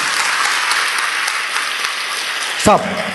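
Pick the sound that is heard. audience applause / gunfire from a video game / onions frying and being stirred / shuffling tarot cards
audience applause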